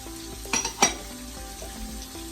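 Chopped celery and onions dropped into a hot pot for jambalaya, sizzling and frying softly with a couple of brief stirring scrapes against the pot.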